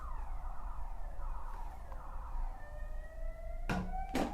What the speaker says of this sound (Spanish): Vamos a esperar que pase la alarma sirena esa,